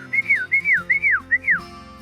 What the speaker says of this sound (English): I can also call them with a whistle.